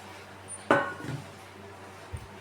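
Freshly grated coconut and peeled country garlic drop into a mixer jar with one sharp clatter, a softer rattle just after, and a faint knock near the end, with no talking.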